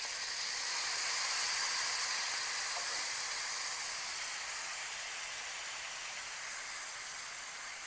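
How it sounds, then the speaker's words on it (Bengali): Tamarind water poured into a hot wok holding fried fish sets off a loud, steady steam hiss and sizzle that runs evenly for about eight seconds, with no talk over it. "ঠিক এরকমভাবে কড়াইতে তেঁতুলের জলটা দিয়ে দেবো।"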